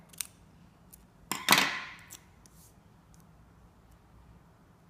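Scissors snip through a strip of tape close by, a single quick cut with a brief crisp rasp, surrounded by quiet faint handling.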